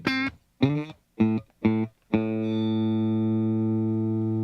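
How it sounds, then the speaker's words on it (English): Electric guitar played through a compressor pedal with the sustain turned up high: four short, punchy plucked notes, then a final note that rings out long and even. "I've got the sustain or the compression cranked up, so it's going to compress harder"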